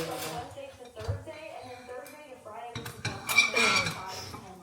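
Eggs cooking on a home stove while pans and metal utensils clink and clatter up close in short, irregular bursts, louder toward the end.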